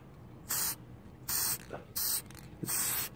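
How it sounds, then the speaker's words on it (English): Kermatex gasket spray sprayed onto a GY6 scooter engine part in four short bursts, each a loud, bright hiss of roughly a quarter second, with faint handling noise between them. "This is how you use the Kermatex pack spray to spray your gasket."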